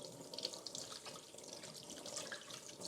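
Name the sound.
washing chicken under running tap water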